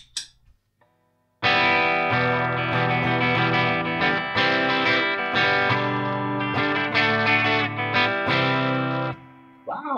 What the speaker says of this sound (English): Let's switch over to the studio reverb.